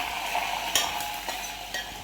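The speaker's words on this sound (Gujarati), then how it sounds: "ડુંગળીને આદુ લસણની પેસ્ટ અંદર નાખવામાં આવી રહી છે" Onion with ginger-garlic paste fries in a pan under a steady, moderate sizzle, while a spoon scrapes and stirs in several distinct strokes.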